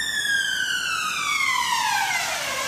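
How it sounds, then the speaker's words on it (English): An ambulance siren wails steadily in the background, its tone sliding slowly downward as it passes, with no talk over it. "The ambulance is not for Karen, it's just in the background"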